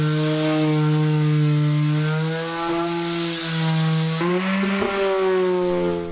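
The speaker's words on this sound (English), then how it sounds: "Orbital sander can be used on an angle to sand these moldings on the edges of these panels" A power sander is run at an angle along the edge moldings of reclaimed wooden door panels, giving a loud, steady motor whine with a sustained harmonic hum that dips and shifts pitch briefly near the end.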